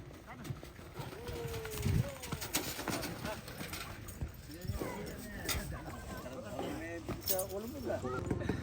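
Water buffalo (carabao) running in a practice race, irregular hoof thuds and clopping mixed with crowd noise, while people talk and shout loudly throughout.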